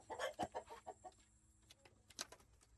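Chickens clucking around a homestead coop, a quick run of soft, close clucks at the start, then scattered quieter calls and pecking sounds, faint overall with no talking.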